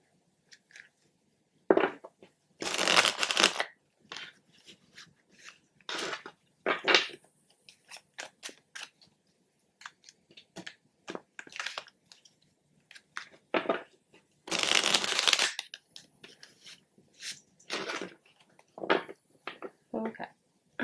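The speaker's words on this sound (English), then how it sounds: "I haven't even finished shuffling." Tarot cards being shuffled in bursts of dry riffling and crisp slapping, with loud flurries around three and fifteen seconds and shorter scattered shuffles between, close up.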